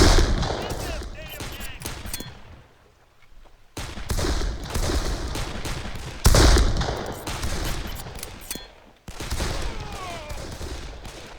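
Rapid automatic gunfire from the video game Darkest of Days, loud and dense, coming in long sustained bursts separated by a couple of short lulls.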